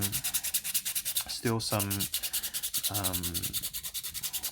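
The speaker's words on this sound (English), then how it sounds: "Good trick is, I'll sand it." Steady rhythmic scraping of sandpaper rubbing back and forth on a hard 3D-printed plastic part, close and fairly quiet, with a couple of brief squeaky tones partway through.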